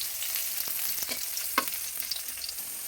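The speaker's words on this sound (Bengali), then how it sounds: "তারপর দিয়ে দিচ্ছি একটু পেঁয়াজ, 2টা থেকে 3টা এলাচ। এখন এটাকে আমরা হালকা একটু ভেজে নিব" Onion, garlic and two or three cardamom pods sizzle softly in a pan, a quiet steady frying hiss broken by a few light clicks from stirring.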